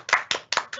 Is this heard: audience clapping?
yes